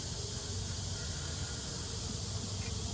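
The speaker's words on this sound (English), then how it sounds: "There's a lot of bees in here working this" A dense, continuous buzz of many honeybees swarming close by at an open hive during inspection, steady and loud throughout with no pauses.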